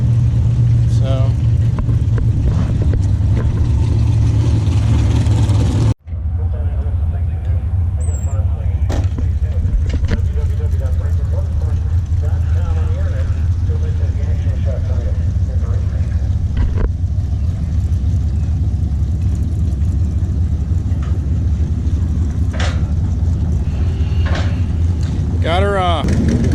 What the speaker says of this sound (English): if we could ever actually hear anything over all the cars with no exhaust